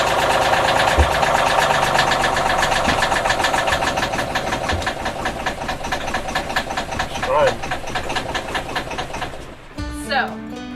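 A boat's troublesome generator engine runs steadily at a loud, even idle with a dense mechanical drone, a brief knock near the start and the engine cutting out near the end, followed by a short clatter.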